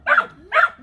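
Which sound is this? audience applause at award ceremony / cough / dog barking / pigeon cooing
dog barking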